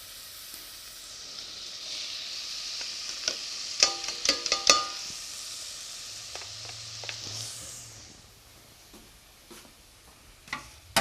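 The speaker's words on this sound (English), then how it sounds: "A little bit of a stir." Red rice being stirred in a cooking pot: a soft scraping sizzle with a few sharp ticks of the spoon against the pot, moderately close, with no talking.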